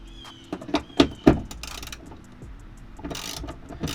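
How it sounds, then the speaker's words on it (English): A socket ratchet loosens a tail light nut on a car, giving a few loud, close clicks and clunks followed by softer ratcheting and handling noise. "I loosened that more with the socket than I probably should have."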